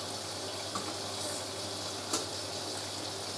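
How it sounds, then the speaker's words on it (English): A Hoover A3060 Electronic 1100 washing machine draws in water for its rinse, a steady hissing inflow over a low hum, with a couple of faint knocks. "On the dilution rinse now."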